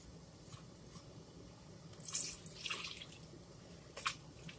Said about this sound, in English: Pour in another cup of milk.